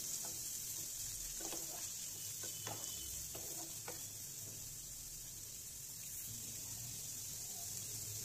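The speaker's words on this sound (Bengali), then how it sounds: "ক্যাপসিকাম দিলাম, বিনস দিলাম এবং গাজর দিলাম। সবগুলো খুব ভালোভাবে নাড়াচাড়া করে নিচ্ছি।" Capsicum, beans and carrot being stir-fried in a pan, with a steady soft sizzle and scattered scraping, clicking strokes from the stirring, close and continuous with no talk.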